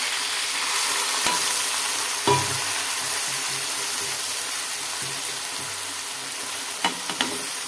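Green onions frying with masala spices in a pan give a steady sizzle throughout, broken by a few sharp clinks of a utensil stirring against the pan.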